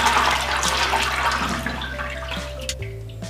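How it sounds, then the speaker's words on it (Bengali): Washed chana dal is poured into a strainer, water rushing and splashing as it drains close by, then tapering to lighter trickles and drips. "ছাঁকনিতে ঢেলে জল ঝরিয়ে নেব।"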